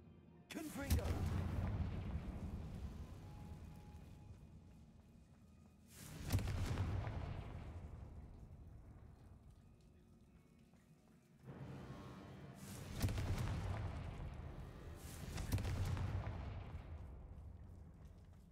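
In the video game Hogwarts Legacy, the Confringo blasting spell sets off four heavy booming explosions, each sharp onset trailing into a long rumbling decay, spaced a few seconds apart.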